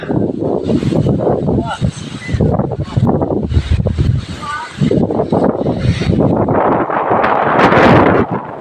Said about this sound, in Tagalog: Uy, ang hangin naman guys